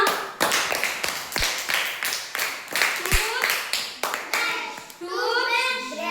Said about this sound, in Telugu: Claps to Kusuma.